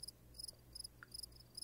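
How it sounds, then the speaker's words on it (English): A cricket chirps in short, evenly spaced trills against a faint, quiet background, repeating several times in a steady rhythm, a classic awkward-silence comedic effect. "You've heard the cricket yeah. chirp that's been used to quite good comedic effect in the past."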